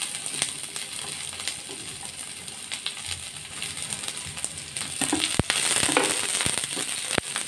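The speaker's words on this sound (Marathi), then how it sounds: "तीन ते चार मिनटं आपण कांदा परतून घेऊया।" Onion frying in a pan for clam curry, a dense close sizzle with scattered sharp ticks and scrapes from stirring that grows a little louder toward the end.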